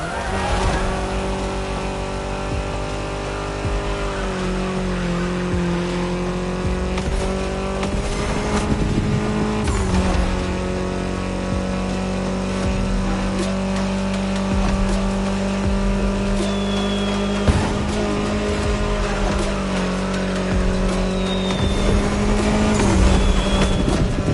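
A Mini Cooper race car engine in the racing game The Crew Motorfest drones steadily at high revs, with shifting pitch and brief gear changes, continuous and loud throughout.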